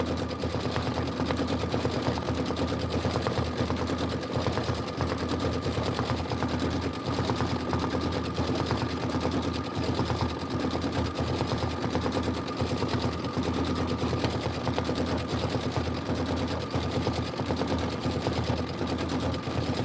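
A home sewing machine stitches an appliqué apple fill on a quilt tile, producing a steady, rapid mechanical chatter that runs continuously at moderate volume without any talk.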